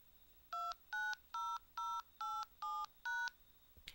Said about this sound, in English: after the number is dialed, the pause, and then the conference call code is dialed in